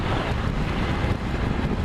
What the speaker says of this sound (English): I think the wind has gotten worse